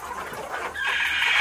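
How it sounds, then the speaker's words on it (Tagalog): Laying hens cluck close by in a short burst on a small farm, one hen's call rising toward the end. "So yan, yung mga manok natin."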